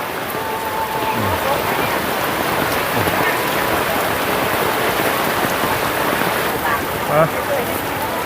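Steady rain falls over an outdoor market in Kut Khao Pun, a dense even hiss that runs through the whole stretch, with a vendor's voice and market chatter mixed in underneath.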